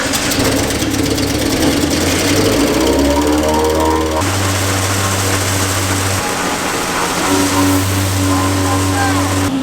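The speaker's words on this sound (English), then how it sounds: "So we're going to turn the leg back, or the blower on, probably blow some corn everywhere through here." Grain blower running on a stuck Case IH demo combine while corn is being moved. It gives a loud, steady mechanical drone with a low engine hum that shifts pitch partway through, continuous and close.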